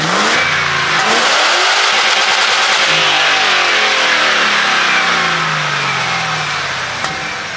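Nissan Patrol V8 engine revving close by, a loud throaty roar that climbs and falls through several swells of revs before settling toward a steadier drone, with a brief click near the end.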